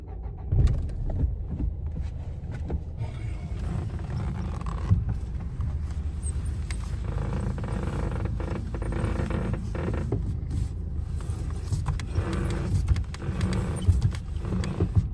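Repeated creaking and clunking from a Dacia Duster's front left suspension with a worn shock absorber mount as the steering turns, over a low engine rumble, with occasional sharper knocks.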